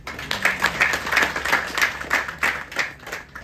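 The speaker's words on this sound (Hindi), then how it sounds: "तालियां बजा दीजिए।" Group of travellers at a spiritual journey gathering in Siem Reap, Cambodia, clapping together in a steady, rhythmic beat that holds for several seconds at close range.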